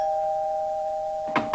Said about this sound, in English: it's really the pizza man who's ringing at the doorbell